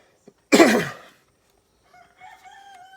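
A rooster crows once, loud and close, a short hoarse burst that fades within half a second, followed by quieter, higher trailing calls of the chicken.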